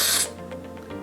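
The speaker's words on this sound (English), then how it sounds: "You're gonna hear the steam come out" An Instant Pot pressure cooker making brown rice lets out a short, loud hiss of steam that cuts off sharply after about a quarter second. A faint low hum and a few soft clicks follow.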